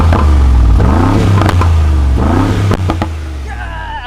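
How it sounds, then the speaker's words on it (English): A limited-edition Brabus hyper truck, its exhaust opened in Sports Plus mode, revs twice in loud rising sweeps, close up, followed by some clatter as the engine settles. "You can actually get that Brabus exhaust system note"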